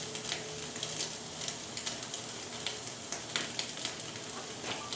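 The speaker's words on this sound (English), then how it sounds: "just that searing that butter right onto that steak" Steak searing in butter on a hot surface gives a steady, fairly loud sizzle with crackling pops scattered throughout, heard alone without talk.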